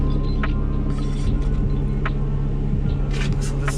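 A boom forklift's diesel engine runs steadily up close, a continuous low rumbling drone with faint clicks and shifts over the top; no clear talk.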